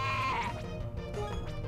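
A sheep bleats in the Pokémon fan game Uranium, a wavering, nasal cry that sounds clearly over busy game music, followed by fainter bleating.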